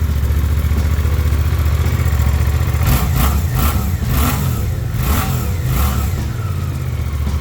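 A 2024 Suzuki GSX-8R twin-cylinder 800 motorcycle engine idles steadily, then revs in a series of short, snappy throttle blips, loud and close, with no talking.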